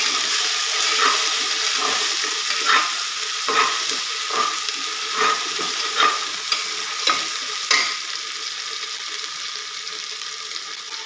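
Chopped tomato sautés with onion in a pan for restaurant-style dal khichdi, a steady hiss with repeated scraping stirs at irregular intervals, close and unaccompanied by talk.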